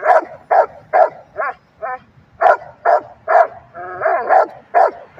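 A dog barks repeatedly during a bike ride, a steady series of sharp, close barks about twice a second, with a couple of whiny yips mixed in and no talk over them.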